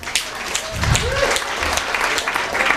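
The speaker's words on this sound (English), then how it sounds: "Give yourselves a big round of applause." Audience applause at a live comedy showcase in a tavern, a short burst of clapping with a voice speaking over it.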